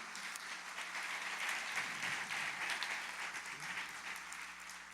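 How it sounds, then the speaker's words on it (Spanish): A church congregation applauds during a sermon, a steady wash of many hands clapping at moderate distance, with faint voices mixed in. "puedes aplaudirle"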